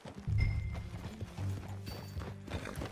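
Horse hooves clip-clop in Red Dead Redemption 2, a steady close trot with a low rumbling bed of game ambience underneath and no talk.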